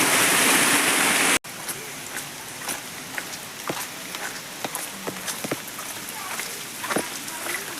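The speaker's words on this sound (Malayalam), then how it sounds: "ഒരു റോട്ടിലൂടെ ഈ മൊത്തം വെള്ളം ഒഴുകിനിട്ടാ" Rainwater runs along a road on NH 66 at Randathani in Malappuram, Kerala. A loud rushing burst gives way to a steady moderate flow of water, broken by scattered splashes and knocks.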